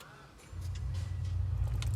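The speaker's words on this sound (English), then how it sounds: "Then start the car." A car engine cranks and catches, settling into a steady low idle that holds to the end, close and fairly loud with no talk.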